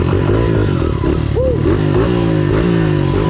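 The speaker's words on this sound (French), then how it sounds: "Ça, c'est de la moto de vrai bonhomme." Motocross motorcycles from makes such as Yamaha, Suzuki GSX-R and Kawasaki, engines droning loud and continuous with rising revs and pitch swoops, someone shouting excitedly over them.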